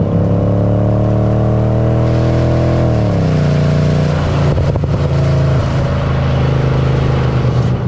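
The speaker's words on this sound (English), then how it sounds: "Obviously, you've got that nice grunt of the engine to push you out." A Mercedes ML63 AMG engine pulls hard under acceleration, its loud, even drone dropping in pitch partway through as it shifts, then building again.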